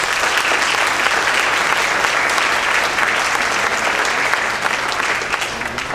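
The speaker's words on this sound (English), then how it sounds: "Please join me in giving them a round of applause." An audience at a school district education address gives school board members a loud, continuous round of applause, thick steady clapping filling the room for the whole stretch and easing slightly at the end.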